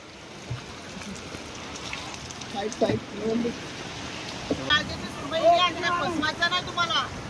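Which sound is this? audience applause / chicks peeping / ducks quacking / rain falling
rain falling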